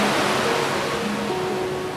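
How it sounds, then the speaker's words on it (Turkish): Strong lodos windstorm drives waves over a flooded beach on Gökçeada, a dense roaring wash of surf and wind filling the whole moment without pause, loud and close. "Saatlerdir devam eden kuvvetli lodos fırtınası geniş kumsalı neredeyse tamamen sular altında bırakmış."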